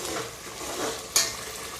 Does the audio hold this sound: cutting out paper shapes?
no